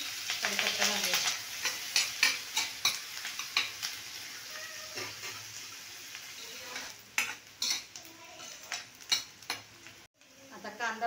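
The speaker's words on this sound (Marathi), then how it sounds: "त्याच्यामध्ये कांदा आणि कढीपत्ता घालूया" Onion and curry leaves fry in hot oil for a crab curry, a soft steady sizzle broken by repeated scraping and clanking strokes of a spoon stirring against the pan, close and fairly quiet.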